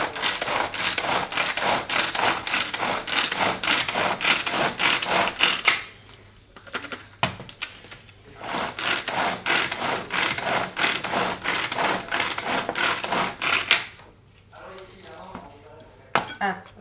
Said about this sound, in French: On va hacher ça.